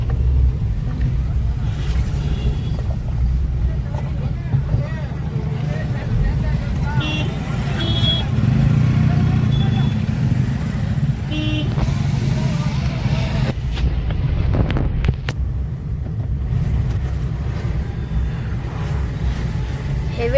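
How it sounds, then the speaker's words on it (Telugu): Dense road traffic crawls near the Ghati Subramanya temple in Karnataka during a festival, a steady close rumble of engines with occasional higher tones and voices talking over it. "హెవీ ట్రాఫిక్ కదా"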